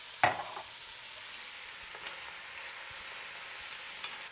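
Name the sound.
frittata filling with garlic powder, smoked paprika sizzling in pan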